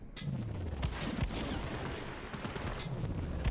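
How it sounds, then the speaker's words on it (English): Faint gunfire rattles in quick bursts and single cracks during a gunfight in the video game Borderlands 3, heard at low level from start to finish. "As we get into the gunfight here, you'll see those frames starting to dip."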